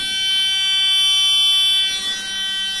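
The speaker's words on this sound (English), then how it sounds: "Why is it beeping?" Steady electronic beeping hums from an open lift logic cabinet with a loose circuit board, a continuous tonal buzz holding evenly for a few seconds before softening, with no talk over it.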